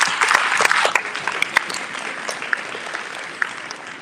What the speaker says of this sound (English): So let's give a round of applause just for that.